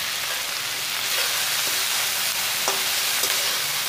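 Onions and vegetables fry in a pan over a low-to-medium flame for rawa upma, giving a steady, even broadband sizzle with a few faint clicks, close and alone with no talk.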